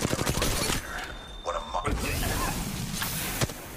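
Gunfire from Apex Legends Mobile on the King's Canyon map, with bursts of shots and mechanical clatter running under game voice lines and other game sounds.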